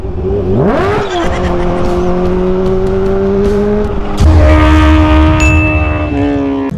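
A Kawasaki H2 Carbon motorcycle engine revs up sharply, then holds a steady, loud warm-up idle with a second rise in pitch partway through, close and continuous.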